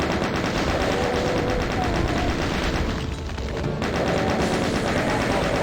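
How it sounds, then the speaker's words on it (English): A chain gun fires continuously in the Doom II video game, a loud, rapid and unbroken stream of close shots that briefly falters in the middle before resuming. "You can use the chain gun too if you want."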